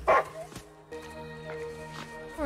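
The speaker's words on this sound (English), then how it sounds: "Poor little doggy." A small dog in a movie gives a sharp yelp, then whimpers and whines in a thin, high pitch, close and fairly loud, with a few softer yips following.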